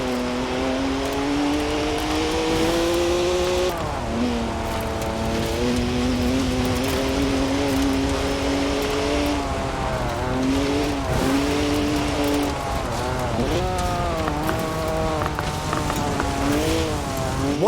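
A BMW races in Forza Horizon 4, its engine revving up and down through repeated gear changes, with tyre squeal and a loud, close, continuous drone lasting nearly eighteen seconds.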